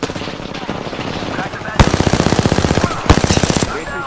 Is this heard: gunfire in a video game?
yes